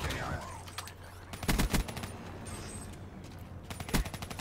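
Bursts of KUDA SMG fire in Call of Duty: Black Ops 3, with two loud rapid clusters around the middle and end over steady game ambience and speech.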